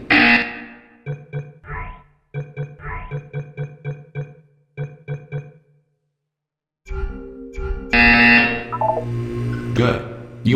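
Buzzer from the video game Portal 2: a string of short, loud tonal buzzes in quick clusters, then a silent pause before a voice speaks over background tones.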